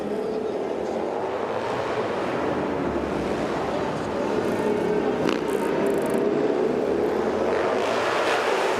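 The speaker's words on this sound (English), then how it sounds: "Final lap, can Plush make it happen?" Harley-Davidson motorcycles race the final lap of an X Games Hooligan qualifier, their engines a broad, roaring wash that swells slightly toward the end amid wind-like noise.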